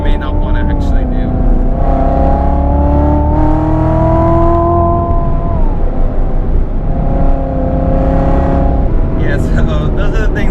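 A 2016 Chevrolet Corvette C7 Z06 engine revs up to around 3,000–4,000 RPM. The steady, loud engine tone rises and holds, then falls back, with people talking over it.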